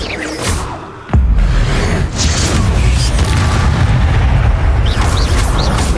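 A Bombarda spell in the video game Hogwarts Legacy detonates with a sudden heavy boom, followed by a loud, sustained rumbling roar and crackling debris, while a voice calls out spell names.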